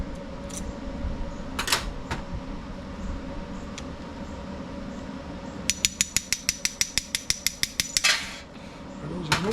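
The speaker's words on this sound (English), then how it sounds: "Go ahead and get that emulsion tube out of the way." Small metal parts of a Toro 22-inch Recycler mower carburetor being worked loose as the emulsion tube is removed: scattered taps, then a quick run of about a dozen sharp, evenly spaced clicks, close and fairly loud, with no talking.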